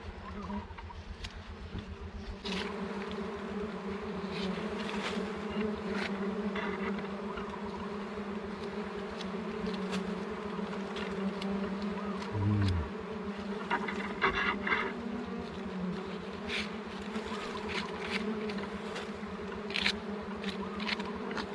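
Stingless bees pour out of a wild nest after it is smoked and shaken, a dense, steady buzzing swarm close by that holds for the whole stretch with no voices.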